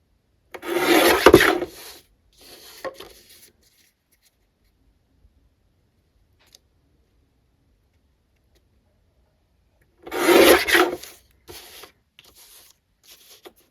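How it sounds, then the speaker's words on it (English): Paper edges of an old calendar craft being trimmed in two separate bursts of scraping, rasping cuts with quiet pauses between them, close and fairly loud. "Just trimming it up so that wherever it hangs over or whatever, it gets trimmed."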